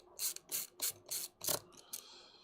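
Screws being driven into a gaming PC case, a series of about six short, close mechanical ratcheting bursts of a screwdriver, each under half a second, separated by brief pauses.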